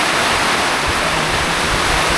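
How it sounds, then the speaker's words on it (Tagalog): Heavy rain pours in a steady, dense roar that fills the whole clip, loud and close, like a downpour around a house. Nobody speaks. "Grabe ang ulan oh."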